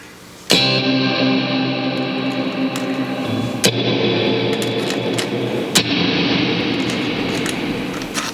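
Loud distorted guitar chords ring out in three strikes through a Quad Cortex modulated reverb effect, each swelling into a long, wavering wash of reverb that lingers and shimmers.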